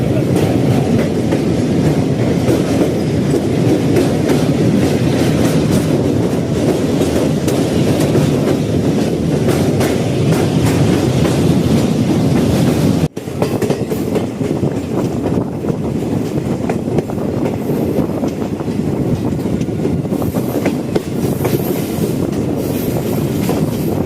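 A passenger train on the Ledo to Guwahati line rolls close by, its loud, steady rumble of wheels and carriages running continuously with rhythmic clatter and occasional squeal, a brief dropout near the middle.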